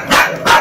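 A dog lets out two quick, loud barks close by, sharp and evenly spaced in rapid succession.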